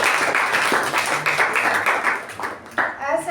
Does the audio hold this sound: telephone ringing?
no